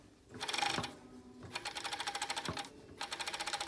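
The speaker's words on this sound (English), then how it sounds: "So I'm sewing down, and I'm making sure, well, it'll all naturally probably fall down as I do it all the way to the base." An overlock sewing machine stitching fabric over cord, quiet rapid mechanical chattering in three short runs separated by brief stops, nearby with no voices.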